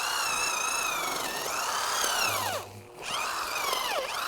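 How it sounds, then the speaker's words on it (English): A power drill with an auger bit bores holes in garden soil to plant hyacinth bulbs and anemone corms. The motor whines steadily and close, its pitch rising and falling as the load changes, then bogs down briefly before spinning back up. "here's how the drill bit works on the drill"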